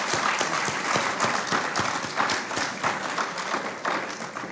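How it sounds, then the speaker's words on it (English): Audience applause after a distinguished lecture, a dense steady wash of many hands clapping that fills the whole stretch at even loudness, with no talk over it. "let us give him a lusty round of applause"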